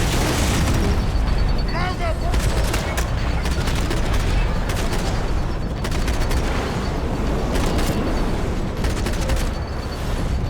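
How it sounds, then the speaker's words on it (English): Slow-motion bullet-time gunfire in Max Payne 3, loud sustained shots and booming blasts over a continuous rumble, with a voice speaking briefly amid the barrage. "Hey, bullet time."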